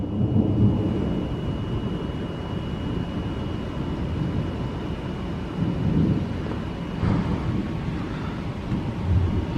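Gusty wind roars and buffets through a nighttime thunderstorm, with a continuous low rumble that rises and falls in swells.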